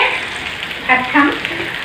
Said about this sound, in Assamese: এইফালে কেৰাহীত ঢেকীয়া ভাজি আছে